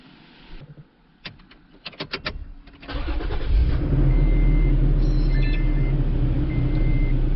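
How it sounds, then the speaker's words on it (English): A Toyota Tacoma started with a newly programmed G chip key: a few sharp clicks, then the engine cranks, catches and settles into a steady, close idle, with faint electronic chime tones over it. "And the new key starts the vehicle."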